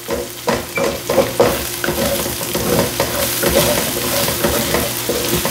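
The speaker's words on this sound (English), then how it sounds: "So as we moving these onions around, we scraping the bottom of this wok" Onions stir-frying in a wok with a spatula scraping the bottom, loud steady sizzle under repeated close scraping strokes for a beef and broccoli stir-fry, with no talking.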